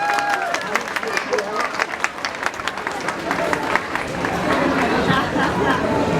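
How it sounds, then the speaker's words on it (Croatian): An audience applauding for a little girl named Katja at a singing show, a burst of many hands clapping in quick irregular rhythm, with crowd chatter rising as the clapping thins out. "Jedan aplauz za Katju."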